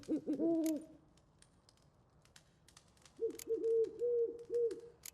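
An owl hoots in The Witcher 3, first a short cluster of deep calls, then after a quiet gap a longer run of four or five rounded hoots, fairly close and clear with no talking.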